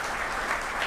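Steady audience applause fills a workforce development executive order signing ceremony, a dense even clapping that holds at a constant level throughout the short burst with no voices on top.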